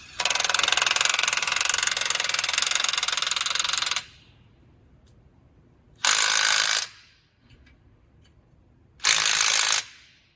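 A ratchet wrench tightens the front strut nuts on a 2010–2015 Lexus RX350, clicking rapidly in three loud bursts. The first burst runs about four seconds and the next two are shorter, with quiet pauses between them.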